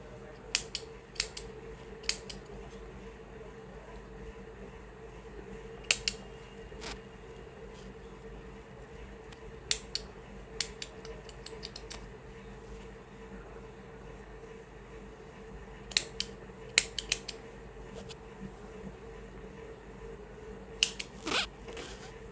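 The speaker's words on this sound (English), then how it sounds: "Now cut all the extra yarn." Small scissors snip off extra yarn from a crocheted popcorn-stitch flower, giving sharp, crisp clicks in irregular clusters over a low, steady background hum.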